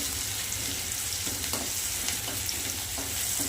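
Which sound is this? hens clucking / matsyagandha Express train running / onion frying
onion frying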